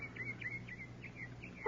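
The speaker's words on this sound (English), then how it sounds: "That's a bird." A bird gives a run of short, repeated chirping calls, about eight evenly spaced notes, faint and close over a quiet low background, alone without speech.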